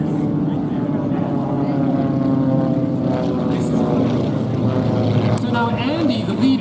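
Racing airplane engine during laps at the Roswell air races, a steady propeller drone held loud throughout with a slight pitch shift near the end, under commentary talk.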